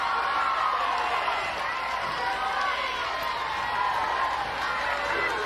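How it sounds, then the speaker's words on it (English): Crowd noise fills a softball stadium at the Women's College World Series as UCLA plays Alabama with the bases loaded, a steady dense roar of many voices rising in excitement, continuous and fairly loud throughout. "You could feel the crowd get loud."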